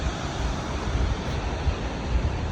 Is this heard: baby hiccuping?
no